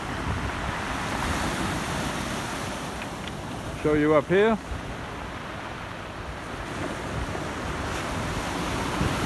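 Ocean waves and surf rolling onto a pebble beach on a cloudy day, a steady broad wash with wind noise throughout, and someone briefly speaking midway.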